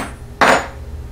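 A rubber mallet strikes a 3mm diamond chisel on leather once, giving a single sharp, close thud against quiet background noise.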